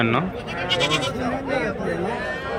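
Rams bleating at a busy weekly sheep market, several wavering bleats from nearby animals overlapping with people talking in the background.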